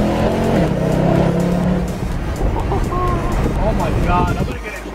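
Mercedes C63 AMG Black Series, an eight-year-old car, driving: a loud engine note climbs and holds in pitch, then drops and grumbles on through gear changes, with people talking over it.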